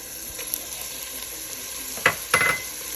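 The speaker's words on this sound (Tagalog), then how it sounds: "Itayin natin yung hipon hanggat mag-color orange." Shrimp sautéing in a pan for a spicy laing dish, a soft steady sizzle with two brief louder stirring scrapes near the end, close up and without speech.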